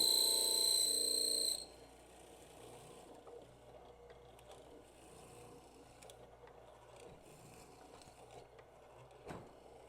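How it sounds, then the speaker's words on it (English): A mortising machine finishes cutting a mortise in wood for a mitered mortise and tenon joint; a loud, steady motor whine runs for about a second and a half, then cuts off, leaving quiet workshop noise with a faint knock near the end. "Here we finish the mortising hole on the mortising machine."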